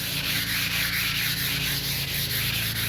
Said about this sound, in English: We've sanded down any rough edges.